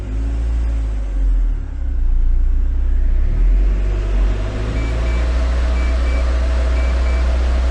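A Smart Brabus ForFour with a Mitsubishi engine idles and runs on a dyno rollers as its wheels turn, a steady loud engine drone with a low rumble and slight rise in revs, no talking.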